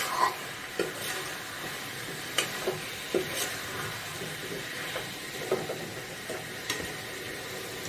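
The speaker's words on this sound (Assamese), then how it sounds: "অলপ দেৰি ভাজি তাৰপিছত পানী দিম ইয়াতে।" Cumin and coriander powders fry briefly in a small kadai, giving a faint hiss broken by intermittent scrapes and knocks of stirring.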